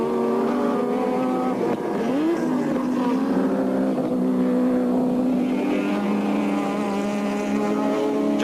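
Touring race cars of the 1983 Australian Touring Car Championship race at Lakeside circuit, with engines howling loud and close and revs climbing and dipping through gear changes, no voices over them.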